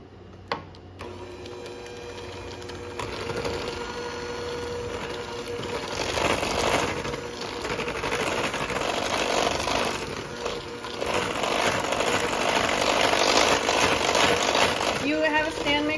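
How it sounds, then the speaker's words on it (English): An electric hand mixer beats lemon cake batter with a steady motor whir that rises and falls as the beaters move through the bowl, starting after a brief clatter and rattle, while a person talks quietly. "I just elected to use my hand mixer today."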